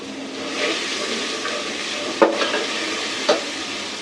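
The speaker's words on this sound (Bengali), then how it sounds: "রসুনটা ভাজা ভাজা হয়ে গেছে" Garlic frying in a pan with spices, giving a soft steady sizzle close by, interrupted by two sharp clinks of a utensil against the pan.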